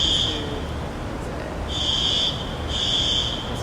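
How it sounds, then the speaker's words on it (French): Electronic alarm beeping in a high steady tone, three pulses of under a second each with gaps between, over a background hum. "Vous entendez une espèce d'alarme là"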